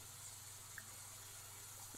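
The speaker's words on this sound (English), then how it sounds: "Why do I still hear water?" Faint, steady running water from a broken shower in The Sims 4, a soft continuous hiss with a low hum beneath it and no voices.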